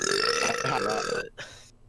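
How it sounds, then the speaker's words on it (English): A long, loud burp rumbles through most of the two seconds, then stops abruptly, leaving only a faint short sound at the end. "Sorry viewers, I like to burp a lot."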